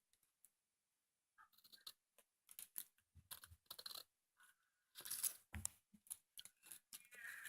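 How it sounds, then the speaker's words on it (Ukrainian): Scissors snip through paper while a doll bracelet is made, giving quiet, irregular crisp cuts and crunches in short bursts with gaps of silence between them. "підрізаємо чуть-чуть паперу."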